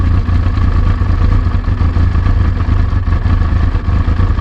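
A cold carbureted motorcycle engine started with the choke fully on idles roughly at close range, a loud steady low rumble with uneven clattering pulses as it struggles and nears stalling.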